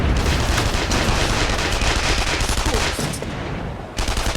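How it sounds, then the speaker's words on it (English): Gunfire in the video game The Saboteur: a dense, loud rattle of rapid machine-gun and rifle shots in a sustained fusillade that eases off briefly before resuming. "The shooting started."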